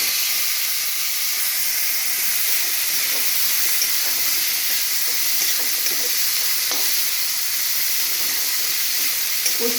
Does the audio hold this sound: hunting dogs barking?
no